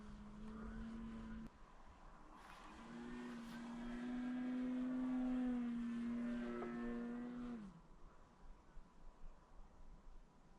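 The engine of a 60-inch Sukhoi SU-26 RC model plane on its maiden flight, held at low throttle as a steady, droning hum that rises slightly in pitch for several seconds, then cuts back and fades under light background noise.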